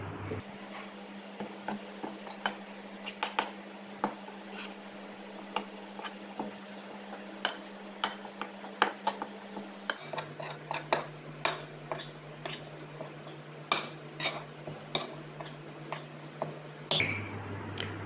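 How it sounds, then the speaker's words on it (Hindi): Spices, salt, garam masala and gram flour being mixed in a bowl, with repeated sharp spoon clinks and taps against the dish over a faint steady hum, no voices. "तो अभी इसको अच्छा से मिक्स करेंगे"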